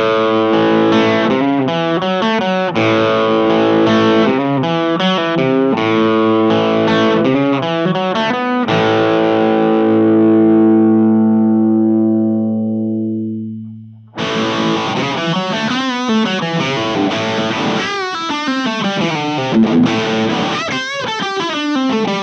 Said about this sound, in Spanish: Dependiendo del nivel de ganancia, podemos encontrar sonidos más limpios a sonidos más crunch.